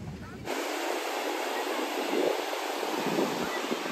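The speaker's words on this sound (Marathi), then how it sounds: "वेल्लेश्वरच्या मंदिराच्या पाठीमागे वेल्लेश्वरचा समुद्र किनारा आहे" Sea waves washing onto the clean shoreline of Velneshwar beach behind the temple near Guhagar, a steady broad roar of surf with wind buffeting the microphone, continuous and fairly close after a brief quieter opening.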